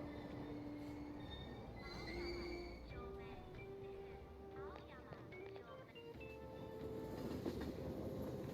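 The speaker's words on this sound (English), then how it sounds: "didn't that train just come in?" A train pulling in within the video game Persona 5 Royal, rumbling rails and wheel squeals blended with station ambience, chimes and faint background voices.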